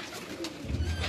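Pigeons cooing on a rooftop in Karachi, a low, soft burbling coo that swells in the second half of the short stretch, close by and alone without voices.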